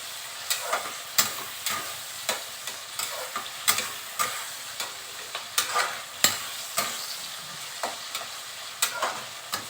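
A spoonful of panch phoron spices frying in oil with tomato and bay leaves, a soft steady sizzle punctuated by regular sharp ticks and scrapes of a spoon against the pan.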